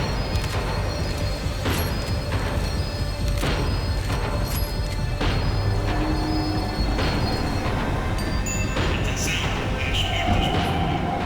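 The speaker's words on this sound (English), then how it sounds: "The tram was slowing down, and I'd only just gotten on board." A tram slowing down in the Max Payne video game, with rumbling wheels, sharp metallic clanks and squealing rails, loud and continuous, rising to a high screech near the end.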